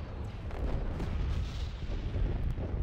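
Starship weapons fire in a Star Wars: Empire at War space battle, a dense, continuous barrage of booming blasts and bursts rolling on without pause, loud and heavy with no voices.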